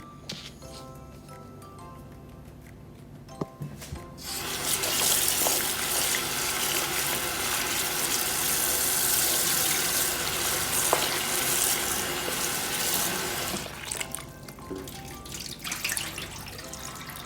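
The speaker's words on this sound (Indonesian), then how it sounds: "Kita mau nyuci bawang putih sama cabenya. Kita cuci." Peeled garlic and frozen chilies are washed under a running kitchen tap, a loud steady gush of water with splashing and shifting as they are rinsed. The flow starts after a few seconds of quieter handling.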